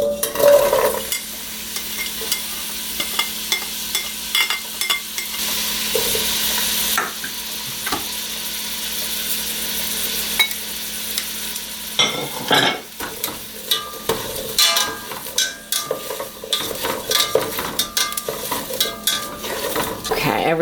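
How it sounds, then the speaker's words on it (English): Herbs and spices sautéing in olive oil in a pot for gluten-free Thanksgiving stuffing, a steady sizzle with stirring and occasional utensil clinks against the pot, close and continuous throughout. "So all of this is gonna go into the pot, little olive oil, and we're gonna saute it."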